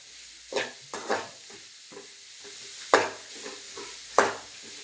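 Dried red chillies and pepper sizzle in a hot pan, with several sharp crackling bursts over a steady background hiss; a spoon stirs now and then, with no talking.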